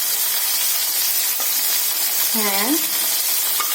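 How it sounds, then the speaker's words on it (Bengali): Pieces of broiler chicken fry in a pan with a loud, steady sizzle from start to finish. A single short spoken word cuts in briefly partway through. "আগে আমরা এটাকে ভেজে নিচ্ছি সুন্দরভাবে।"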